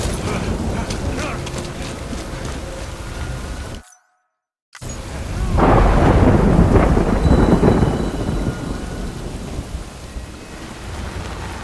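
Steady rain hisses throughout, with low rumbling thunder swelling after a brief dropout of silence midway, ambient and fairly loud, in the video game Death Stranding Director's Cut.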